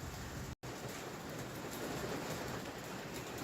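Rain pouring outside a shed, a steady dense hiss of falling water heard from indoors, constant and fairly quiet with no voices, briefly cut out for a split second early on.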